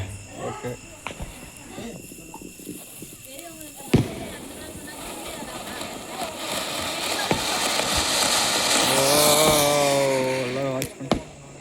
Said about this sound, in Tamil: சரி, நெக்ஸ்ட் நம்ம புஷ்வானம் விடுவோங்க